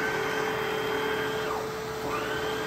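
An Aerus Lux Legacy vacuum cleaner runs steadily with its power head switched on, a loud continuous motor whine with a brief dip in pitch partway through, alone without talk.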